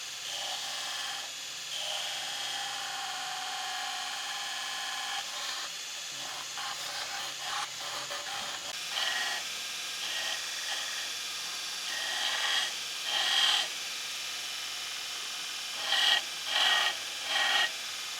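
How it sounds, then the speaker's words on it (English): A belt grinder trims the exterior of a simple handmade knife handle, giving a steady abrasive rasp and hiss for the whole stretch, which swells and dips as the piece is pressed and lifted, loud and close with no talking. "Now it's back to the grinder. I'll trim off the exterior."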